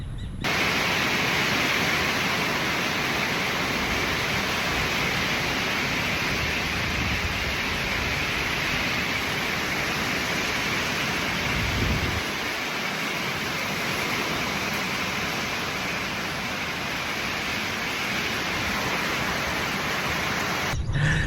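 Heavy rain pours steadily at the Cotabato Provincial Capital in the Philippines, a dense, unbroken hiss of water falling on surfaces that stays loud and even from start to finish.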